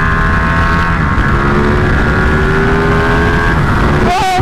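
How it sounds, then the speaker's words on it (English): A Ducati 1299 Panigale motorcycle engine drones loudly and steadily, its pitch gliding as it is knocked down through the gears without the clutch, then a sharp rising-and-falling whine near the end. "No clutch, just bang it down the gears."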